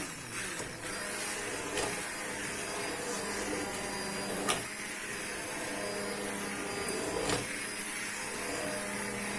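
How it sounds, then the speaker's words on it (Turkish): A blender purees boiling tomato soup, a loud steady motor whir holding through the whole stretch with a few brief clunks and no talking. "Şimdi blenderdan geçireceğim."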